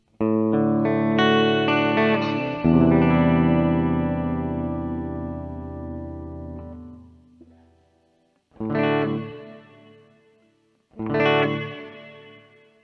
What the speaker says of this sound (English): a plate type reverb with the parameters set equal